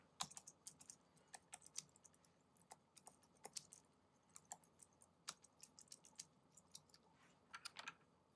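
Brisk, uneven typing on a computer keyboard, close up, with clustered key clicks and short pauses, otherwise quiet.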